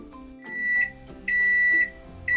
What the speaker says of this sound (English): All right, alarm's done.